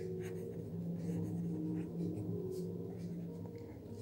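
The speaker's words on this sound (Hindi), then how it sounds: "तो हम लिख देते हैं यहाँ पे सॉल्यूशन" Pen strokes scratch on paper while a math problem is being solved, soft intermittent scribbling over a steady low background hum.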